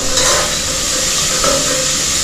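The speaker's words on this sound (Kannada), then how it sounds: "ಫೈನಲಿ ಆನಿಯನ್ ಎಲ್ಲ ಫ್ರೈ ಆಯಿತು." Onions frying for biryani in a pan give a steady, close, continuous sizzle and hiss that holds evenly throughout, with no talking.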